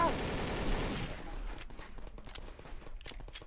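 Gunfire in the Codename CURE video game: a loud dense wash of shooting that fades after a second, then scattered sharp shots and clattering footsteps continue more faintly.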